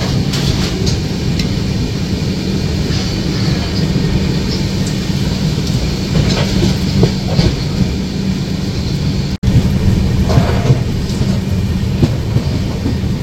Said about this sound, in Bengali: মানে বৃষ্টি ক্রমাগত বেড়েই যাচ্ছে কিন্তু